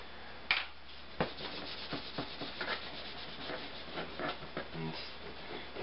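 An old sticker is rubbed off a 1965 Green Ghost game box with short, scratchy strokes in an uneven rhythm. The scrubbing is close and fairly quiet, with no voices.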